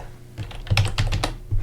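Quick bursts of keystrokes on a computer keyboard, close and clear, typing a short entry into a grocery list app in several rapid clusters with no talking.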